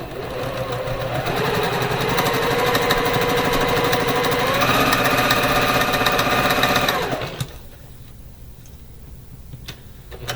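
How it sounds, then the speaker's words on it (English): Sewing machine stitching pink, yellow and blue quilt pieces, a steady close mechanical whir with fast ticking needle strokes, shifting pitch partway through, then stopping abruptly to quiet room noise near the end. "I'm sewing on either side of the line"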